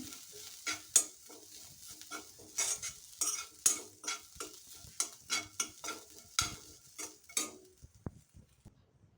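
Irregular scraping and stirring as grated coconut dry-roasts in a hot pan, quick dry scratches and soft clinks repeating steadily, close by, fading out near the end.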